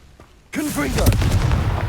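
After a brief quiet moment, a Confringo blasting spell in Hogwarts Legacy erupts into a loud, close booming explosion with crackling debris, and a voice sounds briefly over the start of the blast.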